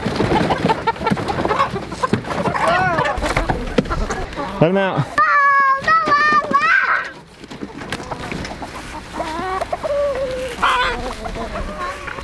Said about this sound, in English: now let's get the chickens over